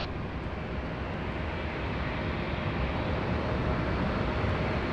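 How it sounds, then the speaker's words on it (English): A Qantas airliner, flight 445, takes off from runway 16 right at Sydney Airport, its jet engines a steady, broad distant roar that swells slightly over the few seconds, with no voices. "Qantas 445, Sydney Tower, runway 16 right, cleared for takeoff"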